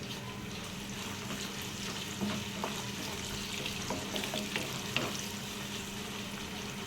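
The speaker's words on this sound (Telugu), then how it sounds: "ఉల్లిపాయలు మంచిగా ఫ్రై చేసుకున్నాం, ఎర్రగా అయ్యేదాకా." Chopped onions sizzle and crackle steadily in a hot pan with cumin seeds, a continuous close frying hiss with occasional stirring scrapes and small pops, no voices.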